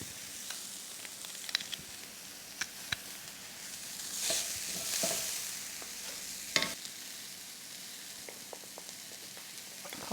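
Finely chopped chilli with its seeds and crushed garlic fry in a pan for Goan-style curried mussels, giving a quiet, steady sizzle with a few faint ticks and one sharper tap, heard close and with no talking.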